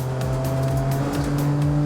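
Tiny hatchback with a limited-slip differential revving hard around Sepang circuit at about 140 km/h, a loud, buzzy high-rpm engine note climbing through quick gear changes, heard from inside the car.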